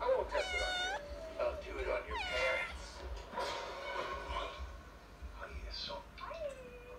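A cat meows repeatedly in drawn-out, whiny cries, fairly close, with a person's voice talking over and between the meows.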